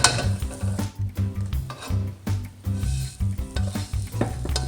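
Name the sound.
vegan sisig transferred from non-stick pan into bowl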